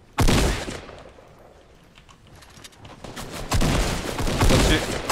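Gunfire in Fortnite Battle Royale: a loud burst of rapid shots opens, fades into quieter scattered noise, then a second sustained volley builds near the end, close and harsh, with a voice briefly speaking over it.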